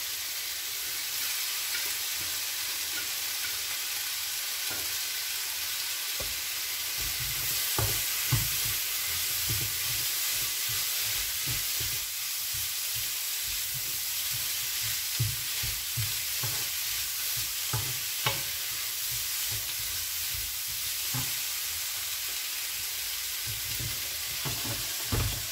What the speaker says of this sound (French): Et je rajoute mes carottes.